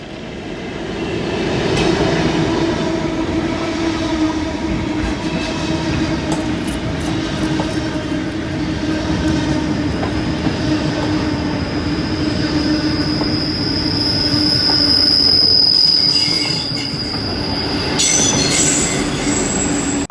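A rail train heading to Lilydale rumbles past loud and close for about twenty seconds, with a high metallic wheel squeal rising midway and a few rhythmic rail clicks, no voices.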